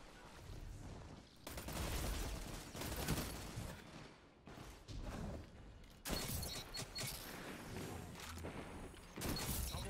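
Rapid, loud gunfire bursts in a shooter game, a shotgun among the weapons, with dense overlapping shots broken by brief pauses and no talking.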